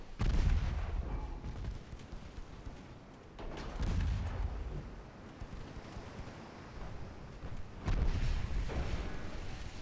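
Heavy naval guns boom in a warship battle from the game Ultimate Admiral: Dreadnoughts, three deep rumbling salvos rolling out at intervals over a low, wind-like background.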